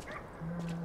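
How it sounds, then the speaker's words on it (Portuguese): A dog in the video game Lies of P gives a sustained whimpering yelp, a brief tonal whine lasting about half a second over quiet game ambience. "esse cachorro vai brigar comigo"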